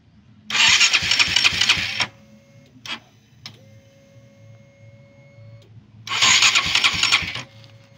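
A KTM Duke 200 motorcycle's starter motor cranks in two loud, whirring bursts, the first about one and a half seconds long and the second after a pause, with faint clicks and a steady hum between them.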